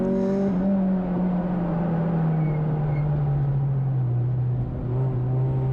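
Touring cars race at Brands Hatch in wet conditions, a sustained loud engine drone with a steady pitch sliding gradually downward as a car passes, carrying on continuously with no voices.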